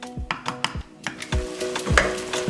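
Meat cooks in a pot for Nigerian efo riro vegetable soup with spinach, giving a low sizzle broken by repeated sharp knocks and scrapes of a utensil against the pot, close and moderately loud.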